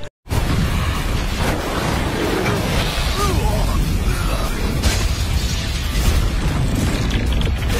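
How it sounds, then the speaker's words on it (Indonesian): Animated character detonating itself in a sci-fi battle: a sudden massive explosion followed by a sustained, roaring blast with rumbling debris and crackling bursts, loud and continuous throughout. "akhirnya Panya meledakkan diri dengan sisa kekuatannya yang habis dikikis sama Luo Feng."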